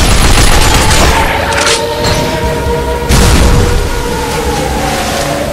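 A powerful energy weapon firing in the Binary Domain shooter game: loud booming blasts and rumbling fire, with a rising whine and sweeping tones between bursts.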